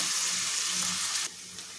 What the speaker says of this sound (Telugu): స్టవ్ మీడియంలో పెట్టి వేయించండి.